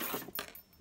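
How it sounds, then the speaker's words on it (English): A bunch of keys jangles briefly and faintly, a couple of quick metallic clinks alone. "my keys."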